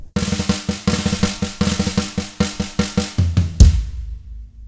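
Played at a slower tempo, a song's drum fill steps through evenly spaced kick and snare strokes, building to a final cymbal crash that decays cleanly with no voices.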